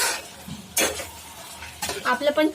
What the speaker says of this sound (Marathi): तर मी परत मिक्स करून घेते चांगलं.